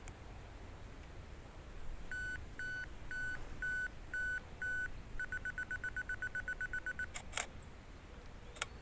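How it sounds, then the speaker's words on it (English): A camera self-timer counts down while photographing snowdrops, six slow evenly spaced beeps, then a fast run of rapid beeps, then the shutter clicks, all close and clear in a quiet outdoor setting. "I'm going to put a couple of second timer on that and then take the picture."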